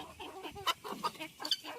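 Farmyard chickens cluck softly in a quiet, faint series of short, uneven clucks close by. No one speaks.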